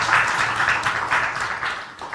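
Audience applause at a Hindi motivational talk, a dense steady wash of many hands clapping together, fairly loud and continuous for a couple of seconds, no voices over it.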